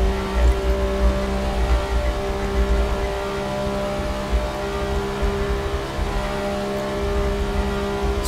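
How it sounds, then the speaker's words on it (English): Porsche 962C Group C racer at full throttle on the Nordschleife in Assetto Corsa, a steady, loud sustained engine drone with a constant tone running unbroken throughout, no speech. "Get the car pointed in the right direction and then it's full throttle"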